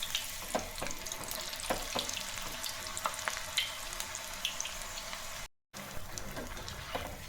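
Chakli made from roasted gram (kadle puri) fry in hot oil, giving a steady, crackling sizzle with frequent pops close by. A brief gap of silence interrupts it near the end.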